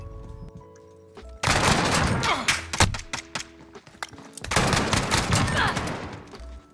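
Gunfire in Modern Warfare Search and Destroy, two loud, close bursts of rapid automatic fire separated by scattered single shots and thuds, with a game music bed underneath.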